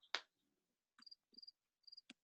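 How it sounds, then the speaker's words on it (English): A few faint, short cricket chirps in quick clusters of three, separated by silence, quiet and distant. "We are literally hearing crickets from somewhere"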